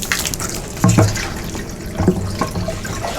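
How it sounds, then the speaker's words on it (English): Water pours into a garden sprayer tank with gurgling and splashing, forming a short, close run of liquid sounds with a few sharper splashes. "I'm going to fill this with water and start spraying."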